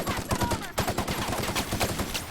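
Gunfire in The Outer Worlds video game. Rapid, loud shots crackle at a steady automatic pace with a thudding low end throughout, and brief indistinct vocal sounds come in under them.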